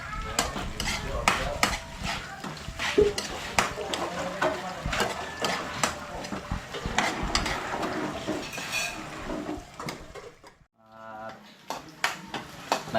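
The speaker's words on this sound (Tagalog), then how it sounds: "umpisa na natin yung sibuyas, bawang, luya at saka sili." Onion, garlic, ginger and chili sautéing in a pan, with busy clattering utensil scrapes and knocks over a sizzle. Brief voices come and go, and the sound drops near the end before a few more scrapes.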